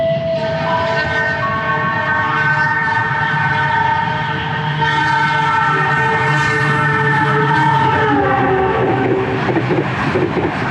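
Argo Merbabu passenger train rushing through a station on track 3, a loud, steady roar with a sustained multi-tone horn blaring close by throughout.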